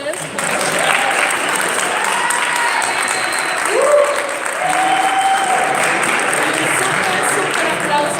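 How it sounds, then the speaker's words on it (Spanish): An audience at a lecture claps steadily throughout, with raised voices and calls mixing into the dense applause. "un aplauso para todos ustedes."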